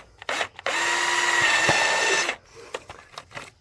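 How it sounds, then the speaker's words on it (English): A power drill whirs loudly for about two seconds after a brief false start, boring a 3/16-inch weep hole in a sump pump pipe, then stops, leaving faint clicks and handling noises. "Now I'm just going to drill the weep hole."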